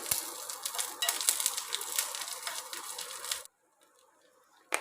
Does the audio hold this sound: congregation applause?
no